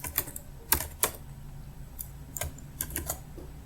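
Computer keyboard typing a Maple software command, with scattered separate keystrokes and short bursts of clicks, fairly close and clear, with no voice present.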